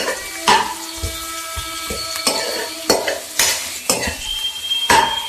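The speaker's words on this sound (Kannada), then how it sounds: "ಅಲ್ಲಿ ಚೆನ್ನಾಗಿ ರೋಸ್ಟ್ ಮಾಡೋ ಈರುಳ್ಳಿನ" Onions roasting in a pan on a home stove, with repeated clinking stirs and scrapes of a utensil against the pan over a steady close sizzle, no talk.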